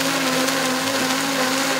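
A motorized grinder sharpens a knife at a traditional market in Daegu, giving a steady, even, humming whine that holds without a break.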